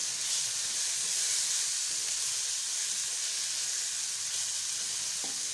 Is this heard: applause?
no